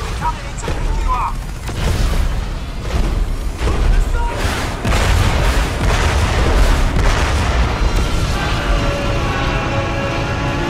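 Minigun fire in the video game Crysis, a dense sustained roar of rapid shots and booms filling the scene continuously, loud and close with game noise layered on top.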